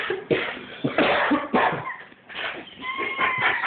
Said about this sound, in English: coughing your guts up to me